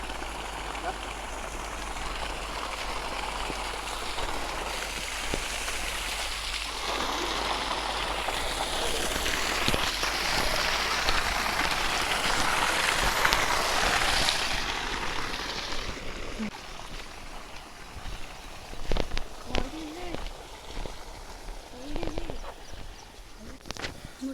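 Water gushes and rushes continuously into a well, swelling louder then easing off, with scattered knocks and faint voices toward the end.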